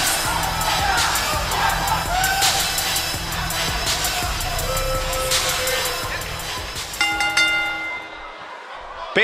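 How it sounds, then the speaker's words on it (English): Wrestling arena crowd cheering and whooping loudly, a dense sustained roar with shouts and sharp claps, easing off near the end. "Based on the electricity that's traveling through this arena and decibel level of the crowd"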